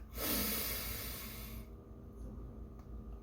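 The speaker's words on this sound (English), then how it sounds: "let's take a very big stretch. Deep breath." A single deep breath taken during a stretch, a loud, close, airy inhale lasting about a second and a half that drops off sharply into quiet.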